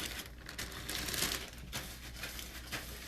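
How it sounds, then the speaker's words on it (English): A plastic bag crinkles and rustles in quiet, irregular bursts as it is applied during a late-night session, faint and close with no voices. "so applying that plastic bag"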